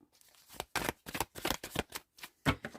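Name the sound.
shuffling oracle cards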